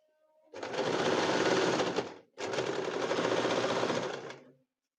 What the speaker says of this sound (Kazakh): Маталарымыздың шетіндегі қайрылған бөліктерін толықтай айналдыра тігіп шығамыз.